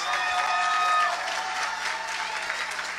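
A church congregation claps and cheers for a bishop, with dense applause and high-pitched shouts and screams that peak early and then ease off slightly.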